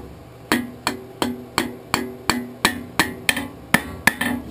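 A hammer strikes half-inch square steel stock during forging. There are twelve sharp, ringing metallic blows in an even rhythm, loud and close, each decaying quickly before the next.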